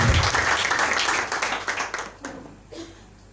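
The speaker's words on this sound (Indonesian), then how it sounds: "Berikan tepuk tangan yang terbaik bagi Allah" Congregation clapping in praise to God at a church worship service, a burst of loud applause that fades over a few seconds.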